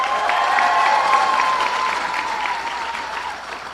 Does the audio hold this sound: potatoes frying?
no